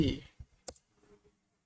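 A few quick, light clicks of computer keyboard keys tapped as a copy-and-paste shortcut, close and brief in a quiet room.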